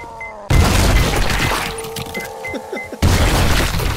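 A pipe bomb in the game 7 Days to Die goes off with a sudden loud boom that cuts in abruptly, followed by crashing debris and scattered cracks and thuds, then another abrupt loud burst near the end.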